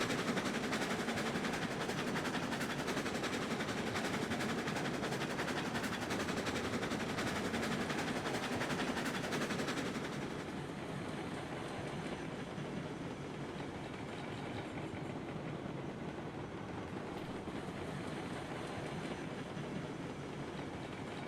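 In Railroads Online, a train hauls a load of beams from a sawmill into a depot, its steady rolling rumble and clatter loud at first, then easing to a quieter, continuous run.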